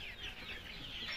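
Chickens clucking at a local poultry farm in Barpeta, Assam; brief, faint clucks and bird calls over a low background hum, with no talk.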